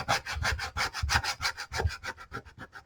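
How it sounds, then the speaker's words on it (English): A tool rubs back and forth over layered vinyl on a sign during burnishing, making quick, rhythmic scraping strokes, close and fairly loud, that speed up toward the end. "I'm only burnishing where the black pieces are on my sign now"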